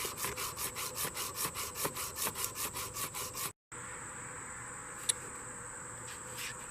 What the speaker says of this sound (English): trying to bring this flat to a finish with the 120 grit